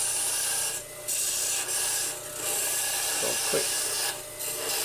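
A parting tool cuts into Brazilian purpleheart wood stock spinning on a lathe, giving a steady close-up rasping, rubbing scrape that runs continuously with slight dips and swells.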